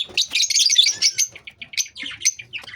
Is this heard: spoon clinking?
no